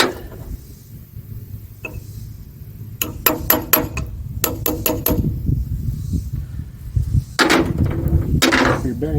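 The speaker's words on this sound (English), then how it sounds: "Take your hammer and your chisel." Sharp metallic hammer blows on a chisel during trailer bearing work, a few single strikes then quick bursts of several, ringing close over a low background hum.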